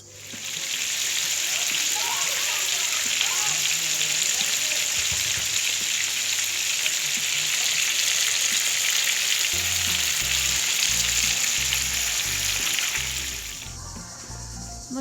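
İnegöl köfte fry in a pan with margarine and oil, giving a loud, steady hiss and crackle for over ten seconds before a low rhythmic thumping takes over and the sizzle stops.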